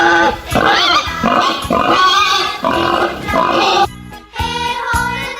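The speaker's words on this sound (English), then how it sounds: "Pig." A pig oinks and grunts in repeated bursts, loud and close, layered over a cheerful children's farm song with music throughout.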